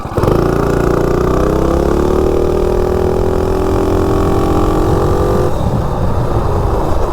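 A Coleman B200 minibike fitted with a 223 engine in place of the 196 accelerates from standstill to 30, its loud single-cylinder engine revving up steadily in pitch before easing off near the end.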